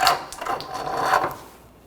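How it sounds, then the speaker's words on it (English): Front CV axle assembly sliding into the knuckle on a 2009-2013 BMW 328i xDrive 3.0L, a short close scraping rub with a few light knocks that fades out within two seconds. "Now slide the axle in place."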